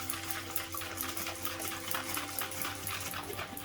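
Liquid sloshing and rattling inside a plastic bottle as it is shaken rapidly, a steady churning wash of sound without any talking.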